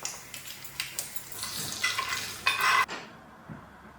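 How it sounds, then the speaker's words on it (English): A tadka of oil, mustard seeds, chana dal, urad dal, red chilies and curry leaves frying in a pan, giving a close, hissing sizzle with stirring clatter that rises and then cuts off abruptly, with no speech. "And then I make a tadka with oil, mustard seeds, chana dal, urad dal, red chilies, curry leaves."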